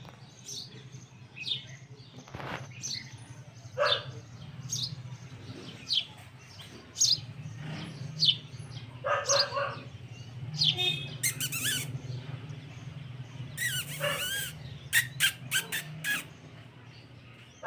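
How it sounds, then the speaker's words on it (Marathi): A house sparrow chirps in short, repeated bursts at close range by a window in the morning, with quick bright tweets clustering toward the end over a low steady hum. "सकाळ सकाळी चिमणीचं दर्शन झालेलं आहे खिडकीमध्ये"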